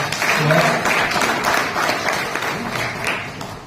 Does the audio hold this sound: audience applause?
yes